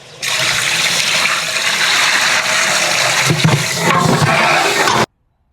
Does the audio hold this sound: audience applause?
no